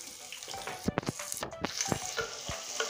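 Chopped onions dropped into hot oil after the tempering spices, for a mustard-paste pada fish dish, give a steady crackling sizzle with a few sharp spits and clinks throughout.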